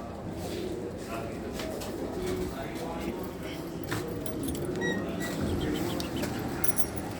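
Pigeons coo in a loft, soft repeated calls blended with jangling and clattering noises while someone talks over them.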